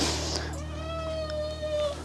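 A cat gives one long, drawn-out meow close by, loud and clear over a faint indoor hum.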